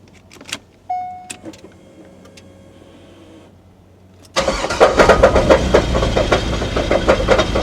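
A C5 Corvette with a battery that had gone dead, cranking after a few clicks and whirs and then catching into a loud, steady running engine, close up with no talk.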